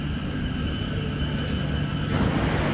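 A London Underground tube train moves at a station platform, a steady loud rumble and hum with a shift in tone near the end as it pulls along.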